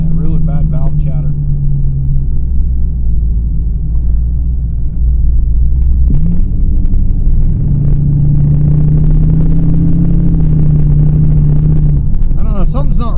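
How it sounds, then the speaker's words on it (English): Jeep XJ fitted with Aces fuel injection runs with bad valve chatter while lean on low fuel pressure, a loud steady engine rumble with a shifting drone, voices talking over it in places. "Yeah, really bad valve chatter."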